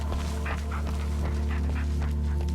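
Dog panting right beside the player in the horror video game Blair Witch, quick rhythmic breaths with faint whimpering over a steady droning game ambience.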